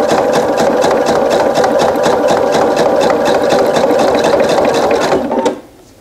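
Sewing machine stitching quilt seams in the ditch, a steady rapid needle chatter running loud and close for about five seconds before it stops abruptly.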